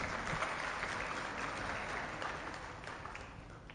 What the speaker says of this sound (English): I'd request all of you to give the organizers a round of applause.